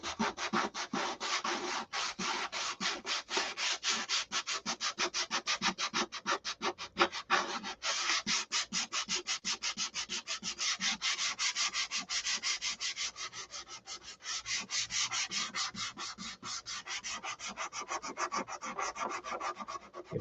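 Steady, rapid back-and-forth sandpaper strokes on a SIG Magnum surface, close and continuous with a brisk scratchy rhythm and brief pauses, no voices.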